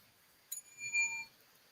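A small bell gives one quick, faint ring that lingers briefly in a quiet room during a paranormal investigation.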